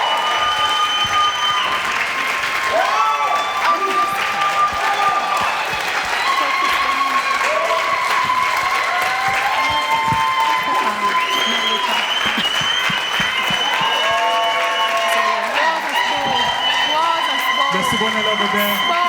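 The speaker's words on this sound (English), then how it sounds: "Please come back so we can give you" Audience applause and cheering for visiting artists at an arts academy event, sustained for the whole stretch, with whoops and some voices rising over the clapping.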